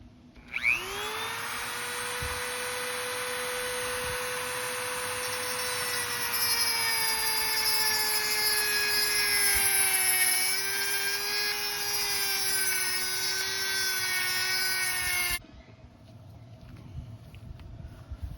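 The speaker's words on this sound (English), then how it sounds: "You just kind of, gently grind around or cut around." A power grinder cuts a retaining ring off a Saab 9-3 convertible hydraulic cylinder outdoors, giving a steady high whine for about fifteen seconds that stops abruptly, with no one talking.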